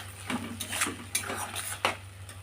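A spatula scrapes and knocks around a pan as spices and lentils are stirred and sautéed for an apple chicken dish, with a few sharp metallic clinks over a faint background hum.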